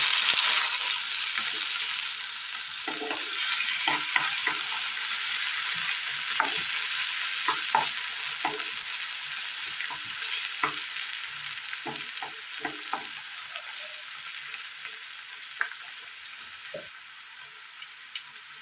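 Chopped tomatoes sauté in a pan for a Kerala curry, opening with a loud burst of sizzle as they hit the oil, then settling into a softer steady frying hiss with intermittent stirring clicks and scrapes, no voices.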